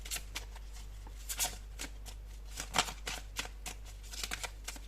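Tarot cards being shuffled and drawn by hand, a series of quick papery riffles and flicks at close range, quiet and irregular, with a faint steady hum underneath.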